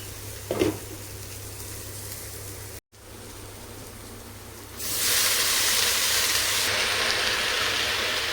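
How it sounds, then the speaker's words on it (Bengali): Okra fries in a pan, giving a steady hiss and crackle that turns noticeably louder and brighter partway through and then holds, over a low background hum. "এইদিকে ভেন্ডিটা ভাজতে দিয়েছি আর কি"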